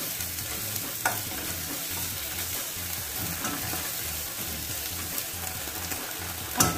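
Tomato paste stirred into a cooking pan with cubes: steady low sizzle under soft repeated scraping and stirring strokes, close and even throughout, with a small clatter at the end.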